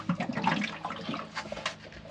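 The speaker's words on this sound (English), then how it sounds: "this will drain the water from the filter" Water drains from a DE pool filter that has been opened up, a steady rushing, gurgling flow with splashy bursts that stays moderately loud and close throughout.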